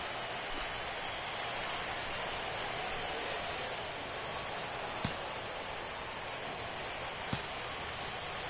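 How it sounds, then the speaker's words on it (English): Steady rain falls over a ballpark in a baseball video game, a dense, even hiss that holds at one level throughout, with two faint sharp clicks standing out partway through. "The rain, as we've mentioned, coming down fairly steadily here at game time."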